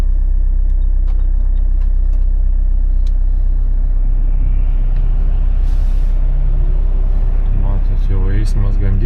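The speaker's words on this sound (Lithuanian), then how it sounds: "jau eismas gan didelis, mašinos važiuoja, autobusai važiuoja" Early morning road traffic with cars and buses passing nearby, a loud continuous engine rumble with a hiss of air brakes and rising engine notes, while someone talks over it.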